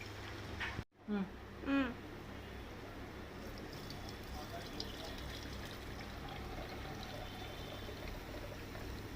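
Homemade ghee is poured through a filter, giving a soft continuous pouring and trickling sound after a brief clink at the start, with someone speaking at times.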